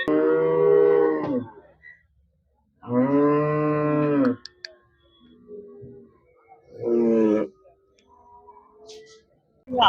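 Cattle at the Melapalayam cattle market in Tirunelveli district, where dairy cows giving fifteen litres of milk are sold, let out three long, loud, close moos separated by pauses, with faint market murmur and brief noises in the gaps.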